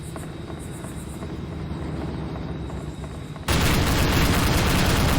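Turret gunfire in the video game Black Hawk Rescue Mission 5, a steady rotor-like rumble that abruptly gives way to a dense, loud, continuous burst of rapid fire lasting to the end.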